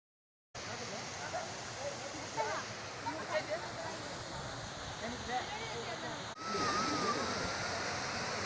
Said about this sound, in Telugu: మీరు చూస్తున్న ఈ పైకారా వాటర్ ఫాల్స్ ఊటీ నుంచి 20 to 25 కిలోమీటర్ డిస్టెన్స్ దూరంలో ఊటీ మైసూర్ రోడ్లోనే ఉంది ఫ్రెండ్స్.